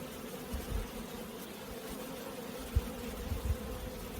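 Honey bees from a queenless colony buzz around an open hive, a soft, continuous hum with a few brief bumps, heard up close and otherwise quiet.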